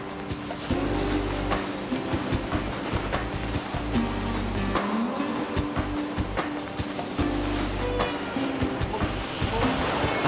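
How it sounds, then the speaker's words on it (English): Waves thump and crash along the Cornish coast in a continuous loud roar, with surges swelling and fading and deep low rumbles beneath. "One that positively embraces the lashing winds and thumping waves that batter the Cornish coast."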